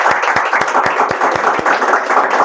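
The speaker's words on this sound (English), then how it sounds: "huge round of applause for everyone present here" Audience at an AutoCAD drafting competition gives a round of applause to the participants, steady close clapping throughout with sharp individual claps standing out.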